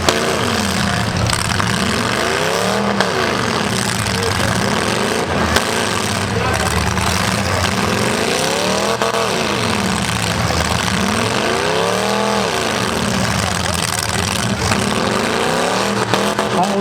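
Demolition derby car with a broken tie rod, engine revving repeatedly as it strains to move; loud rising and falling engine surges in a steady cycle over arena noise, with a commentator talking.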